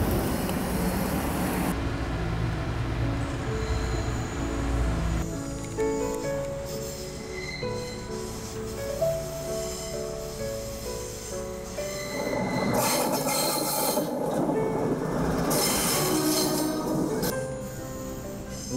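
A hand-built steam train runs along rails with a steady, loud rumble and repeated wheel squeal and clatter throughout, and no one speaks.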